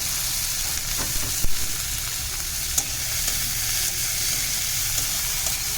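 Chopped vegetables sizzle steadily in a hot pan while being prepared for vegetable noodles, a dense broadband frying hiss broken by a few sharp clicks of stirring, close and continuous with no talking.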